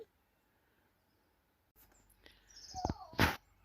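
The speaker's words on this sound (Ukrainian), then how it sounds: "Село Віталії, вечір пташки співають." After a quiet stretch, a few bright bird chirps and tweets ring out nearby in an evening forest in an Italian village, against a faint, still background.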